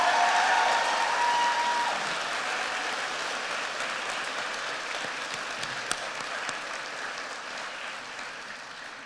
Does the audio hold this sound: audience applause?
yes